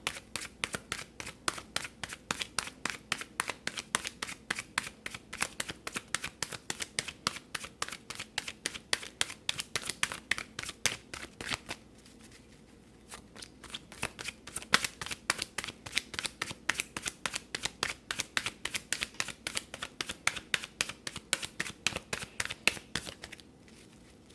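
Rapid, crisp riffling of tarot cards repeats in steady bursts, with a short pause midway before the shuffling resumes, close and fairly quiet.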